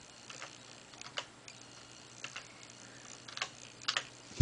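Scattered, quiet clicks of a computer keyboard as secret letters are typed, irregular taps spread over a few seconds with a louder knock at the end.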